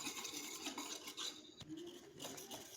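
Gram flour batter for alu vadi is stirred in a bowl, a continuous close scraping and rubbing that stays steady and fairly quiet, with no one talking.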